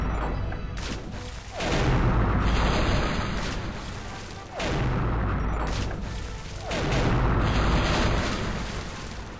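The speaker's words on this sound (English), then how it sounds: "they're the same cannons that Rottingham uses" Cannons firing in The Curse of Monkey Island, three heavy booms spaced a few seconds apart, each a loud broadband blast that rolls into a sustained rumble, with no talking.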